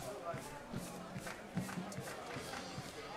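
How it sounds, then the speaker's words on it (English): Home crowd fired up at a Frankfort high school football game in the fourth quarter, a steady roar of voices with scattered shouts and claps, fairly distant and continuous. "You hear this kind of crowd noise fired up out of Frankfort in the 4th quarter of a home football game."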